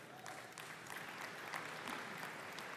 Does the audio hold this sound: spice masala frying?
no